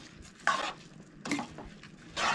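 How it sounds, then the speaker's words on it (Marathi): A spoon stirs rice into pulao in a pot, giving three separate bursts of scraping and clinking, close by with quiet gaps between them. "सगळे तांदूळ ॲड केल्या उपरांत बरें मिक्स करून घेवंक जाय"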